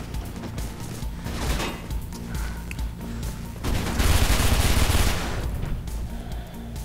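Rapid automatic gunfire in the first-person video game Mirror's Edge, a dense sustained burst of shots with a loud, heavier stretch near the middle, heard alone without talk.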